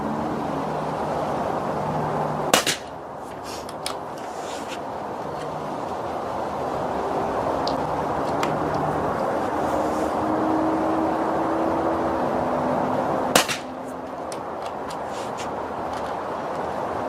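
Air rifle firing H&N Silver Point .177 hunting pellets outdoors: two sharp, isolated shots about eleven seconds apart, each a brief crack standing out over a steady hiss of wind and distant background noise.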